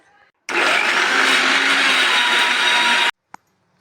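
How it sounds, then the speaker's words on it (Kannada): A mixer grinder blends raw mango, onion and green chilli in one loud, steady whirring burst of about two and a half seconds, which stops abruptly and is followed by a single short click. "ಈಗ ಮಿಕ್ಸಿ ಮಾಡ್ತಾ ಇದ್ದೀನಿ"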